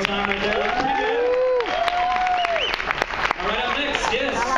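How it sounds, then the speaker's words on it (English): A crowd at a Halloween costume contest aboard the Carnival Fascination cruise ship claps steadily. Cheering and voices rise and fall over the applause. "Give a round of applause one more time right there."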